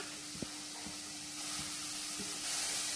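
Grated carrot sautéing in ghee inside a pressure cooker, giving a steady soft sizzle and hiss with a few light stirring knocks, quiet and close, with no talk.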